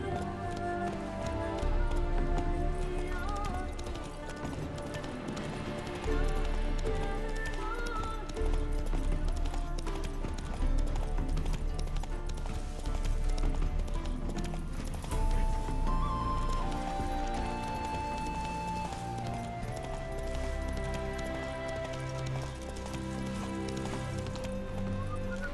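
Horse galloping in The Witcher 3: Wild Hunt on Xbox Series X, a steady run of hoofbeats kept up throughout under a loud, dense musical score, with no talk.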